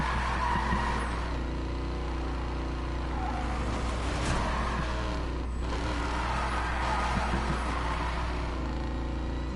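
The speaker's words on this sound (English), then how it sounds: "You have to admit, this thing looks badass doing drifting." A car drifts with skidding, squealing tires in a PS4 video game, its engine droning steadily beneath a sustained loud tire screech that rises and falls through the slide.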